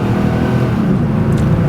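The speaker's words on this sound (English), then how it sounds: "That's like half throttle of the pep that that engine had." A 1990 Cadillac Seville's 4.5-litre V8 accelerates at half throttle, a steady, loud low engine drone that holds evenly throughout with no talk.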